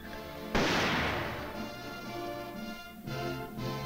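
A recoilless rifle fires during U.S. Army weapons training: one heavy, sudden blast that decays slowly over a couple of seconds, heard against a steady tonal film-soundtrack background.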